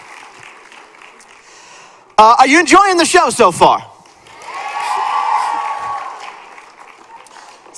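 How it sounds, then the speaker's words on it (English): An audience at a high school show claps and cheers, a swelling wave of applause that follows an amplified announcer's voice, at moderate distance in a hall. "Give yourselves a round of applause."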